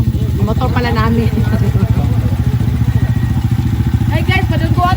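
Motorcycle engines idle and rev nearby in a steady throbbing, engine-heavy rumble, while voices talk over them throughout.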